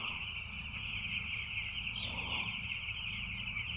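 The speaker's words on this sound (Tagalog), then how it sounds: "Daming sisiw" Many newly arrived young chicks in a brooder warmed by a heater keep up a dense, steady chorus of high cheeping, continuous and close throughout with no voices.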